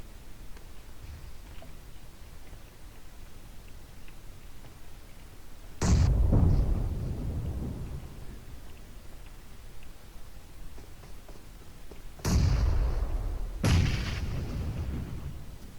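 Grenade blasts and gunfire in the mobile battle royale game PUBG Mobile: two heavy, booming explosions several seconds apart, each with a sharp crack and a long rumbling tail, over a low background of distant game noise, no speech.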